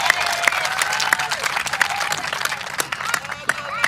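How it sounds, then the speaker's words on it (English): An audience at a rally applauds as a councillor is welcomed to the podium, with dense clapping carrying on throughout and crowd voices mixed in. "If we can give him a round of applause."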